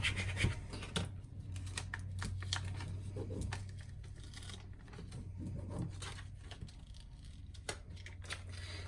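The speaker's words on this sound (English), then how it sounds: "So I'm going to give that a little scrape." Craft vinyl being scraped with a weeding tool while preparing pieces for a 12x12 Halloween scrapbook layout, giving repeated close, dry scratchy strokes over a low steady hum.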